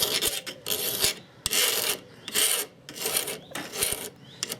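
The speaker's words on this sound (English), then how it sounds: "So definitely don't pull the file backwards, or else you will blunt the file." A metal file sharpens the blade of steel pruning secateurs with repeated rasping forward strokes, about six even rough scrapes with short pauses between, close and clear without talk.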